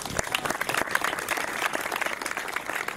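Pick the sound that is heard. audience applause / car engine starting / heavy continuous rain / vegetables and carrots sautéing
audience applause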